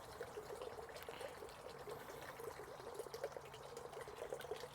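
Water gushes steadily from a solar-powered koi pond pump nozzle opened to maximum flow, a soft continuous splashing and trickling heard close and alone, with no talk over it.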